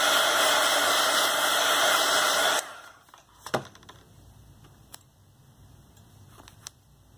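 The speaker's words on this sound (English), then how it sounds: "I'm going to go ahead and use my heat tool, my Derice heat tool, to make sure that this is dry before I start coloring" A Derwent heat tool blows steadily and loudly for about two and a half seconds to dry paint, then cuts off, leaving a few faint clicks and small handling knocks.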